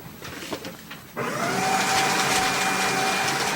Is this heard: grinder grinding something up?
yes